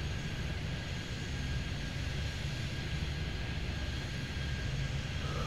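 Steady broadband jet roar of an airliner landing in the airport-management game Airport Madness 3D, set at Miami, a constant even rumble with no voices.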